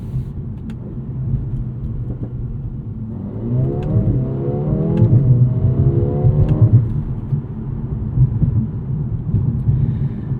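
A 2024 Mercedes CLA 35 AMG, a 302 hp hot coupe, revs up with a rising engine note over a low rumble, joined by turbo whooshes, then settles back to a steady drone; close and fairly loud.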